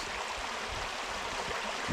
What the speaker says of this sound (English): the water will be running over the road